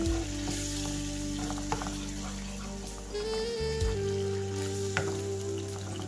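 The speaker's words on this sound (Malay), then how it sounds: "Dah nampak mendidih gitu" Tomato, fish and oyster sauce bubbles and sizzles steadily in a hot pan, a dense continuous frying hiss with occasional pops and stirring clinks, close and loud with no talking.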